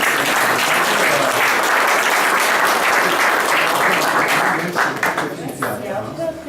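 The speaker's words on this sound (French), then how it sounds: "Vous pouvez l'applaudir." Audience applause at a French afterwork business event, a dense, loud wash of many hands clapping that thins and breaks into scattered claps toward the end.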